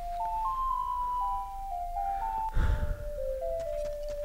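A slow, pure-toned ocarina melody of held notes from The Legend of Zelda: Ocarina of Time plays alone, with a soft thump partway through.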